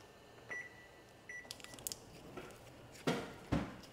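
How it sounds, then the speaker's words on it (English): A kitchen timer being set while cooking fish: a few short electronic beeps at irregular intervals, with soft handling clatter and a couple of louder knocks, fairly quiet and close. "Start a timer for about 8 minutes."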